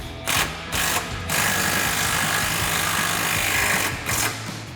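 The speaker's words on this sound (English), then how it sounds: "We'll tighten these back down with our 13 mil socket." Ratchet with a 13 mm socket tightening bolts on a 2005-2009 Mustang GT front strut and spring assembly, a close, loud continuous clicking run with brief pauses near the start and end.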